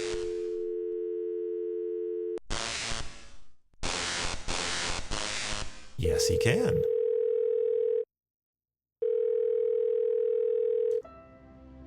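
Telephone dial and busy tones sound in the Thimbleweed Park video game: steady electronic tones, broken by a short silence, alongside bursts of game noise, with a brief spoken reply over them.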